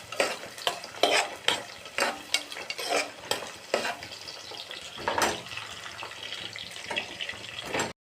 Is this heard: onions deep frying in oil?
yes